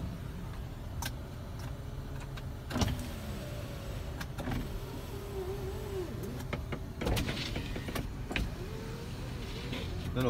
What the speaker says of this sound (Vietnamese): Kính điện anh em nhé.